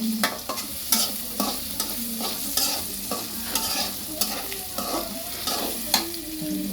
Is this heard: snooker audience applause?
no